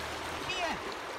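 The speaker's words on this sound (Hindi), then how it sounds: "तो गाइस यहाँ पे पानी का प्रेशर बहुत तेज है" Fast, high-pressure stream water rushes continuously at a fishing spot, a steady broadband wash with faint splashes and a voice talking briefly over it.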